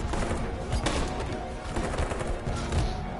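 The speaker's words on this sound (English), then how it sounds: "Just open fire on all of them, Marcus." Rapid gunfire bursts in the video game Detroit: Become Human, a dense crackle of shots at close range, steady throughout.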